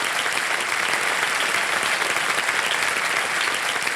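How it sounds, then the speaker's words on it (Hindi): Dense, steady applause from a studio audience on a television quiz show, loud and continuous without a break, with no talking over it. "ताली बजाते हैं आपकी"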